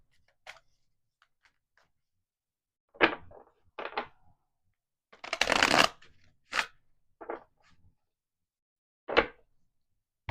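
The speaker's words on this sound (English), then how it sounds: "I didn't even get like a good shuffle in there" Tarot cards are shuffled and handled in scattered short bursts of riffling and flicking, close and soft, separated by quiet gaps, including one longer riffle partway through.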